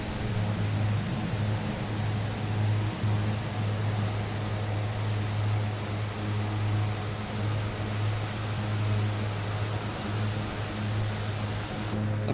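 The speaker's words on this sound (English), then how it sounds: "I think I can hear your aircraft." A Twin Otter twin-turboprop in Microsoft Flight Simulator 2020 drones steadily, a continuous propeller and engine hum with a sustained high whine running throughout, no talking.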